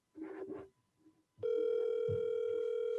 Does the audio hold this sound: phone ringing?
yes